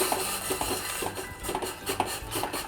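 A spoon stirring homemade cerelac powder mixed with ghee in a bowl, close scraping and soft clinks repeating in an uneven rhythm.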